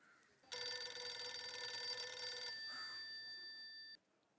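A telephone bell rings in one continuous burst of about three seconds, followed by a fainter lingering tone before cutting off; fairly quiet and nearby.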